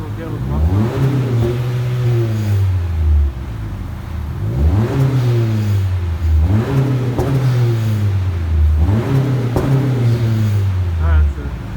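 Honda Accord Sport 1.5T with the muffler deleted, revving repeatedly: four loud rising-and-falling exhaust blips in a steady rhythm, close up, with a person talking faintly underneath.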